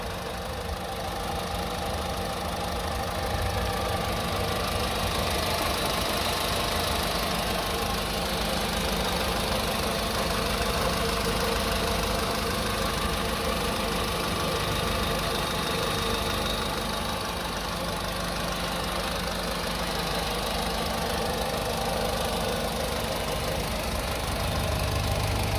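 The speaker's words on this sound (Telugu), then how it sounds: "సో ఇంజిన్ సౌండ్ అయితే చాలా బాగుంటుందండి, చాలా నీట్గా వస్తుంది సౌండ్." A 2016 Volkswagen Vento Comfortline petrol car idles with a smooth, even engine hum that holds steady and close throughout, with no voices.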